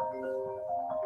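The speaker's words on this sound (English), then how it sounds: "that's my phone going off" A mobile phone rings with a steady electronic tone of layered pitches, close and continuous through the short moment, with no one talking over it.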